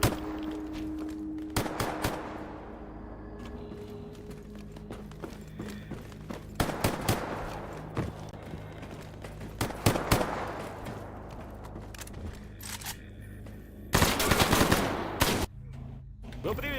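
Machine gun fire in a first-person shooter, with repeated loud bursts and single cracks ringing out close by and farther off across the whole stretch, under occasional game noise.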